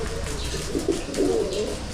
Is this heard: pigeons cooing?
yes